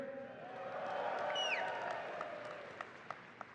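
Opening-night audience at Collision 2022 in Toronto answers with a swelling wave of cheering, whoops and applause that rises and fades over a few seconds, with a few scattered claps at the end.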